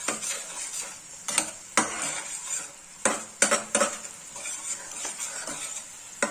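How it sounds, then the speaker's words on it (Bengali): Spice masala stirred and fried in a pan for a cauliflower and egg curry, with repeated metallic spoon clinks and scrapes against the pan over a light sizzle, close and without speech. "এবার ভালো করে মশলাটা কষিয়ে নেব, অনেকক্ষণ ধরে কষাবো।"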